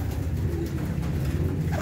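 A racing pigeon coos steadily and up close, a low rolling murmur that carries on without pause for the whole short stretch.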